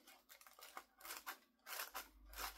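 Lollipop-shaped scissors work against tissue paper, making scratchy, rustling crunches in irregular bursts, close by, with the paper crinkling loudly toward the end.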